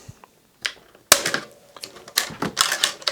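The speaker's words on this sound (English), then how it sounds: "Got a pair of scissors here. We're just going to cut them." A few sharp snips and clicks as scissors cut plastic tie straps while unboxing a Traxxas Xmaxx RC truck, followed by bursts of crisp rustling and clattering close by.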